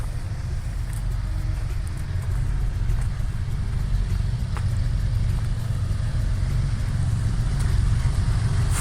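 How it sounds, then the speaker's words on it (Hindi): A deep, continuous rumble of a heavy approaching Pakistan Railway freight train drones steadily throughout, low and powerful, with faint clanks and rattles above it. "गरजदार आवाज़ के साथ फ्राइट ट्रेन लेकर 8220 आ रहा है।"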